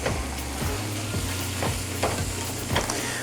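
Tofu scramble frying in a pan, a steady loud sizzle with regular scraping stir strokes roughly every half second, close and continuous with no talking.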